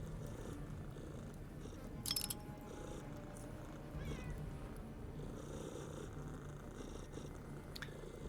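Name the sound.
cats purring in the video game Underrail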